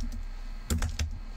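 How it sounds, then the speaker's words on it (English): A few quick keystrokes on a computer keyboard while entering a search for a gold bow ribbon, three short clicks close together in a quiet room with no talking. "I'm going to type in gold bow ribbon."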